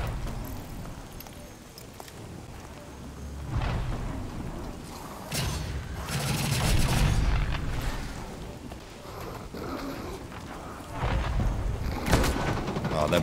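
Gunfire in a first-person shooter video game, several bursts of shots and heavy booming impacts spread across the span, some louder and closer than others, mixed with game background noise.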